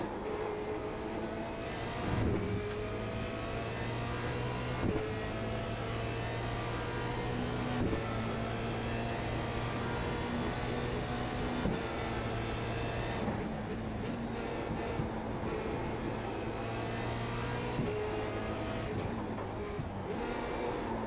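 A Porsche 911 GT3 Cup car in the iRacing sim at Interlagos, São Paulo, drones loudly and continuously, its engine note climbing and dropping sharply with repeated gear shifts every few seconds.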